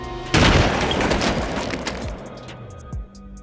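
A single sharp sniper rifle shot in a Stalingrad war film scene, a loud close crack with a long rolling echo tail, followed by a quieter thud and faint bell-like tones.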